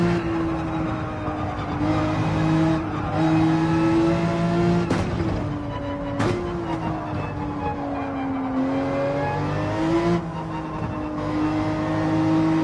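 A race car in Gran Turismo 7 on soft tires, its engine droning loud and steady through partial, half and full throttle, with brief sharp shifts in pitch at two points and no talk over it.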